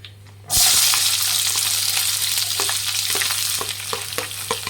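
Sliced onions hit hot oil in a pan for lima bean upma, bursting into a loud, dense sizzle that holds steady, dotted with faint stirring clicks, nearby and without talk.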